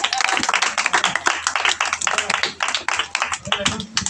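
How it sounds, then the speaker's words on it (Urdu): Audience clapping at a Christian gathering, a dense run of claps throughout with a voice speaking over it and a low hum underneath. "آپ سب کی بھرپور تالیوں میں"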